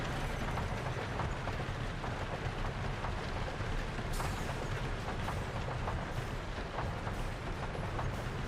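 A train rolls past with a continuous, fairly faint rumble and scattered clicks of wheels on track, heard alone without talk throughout.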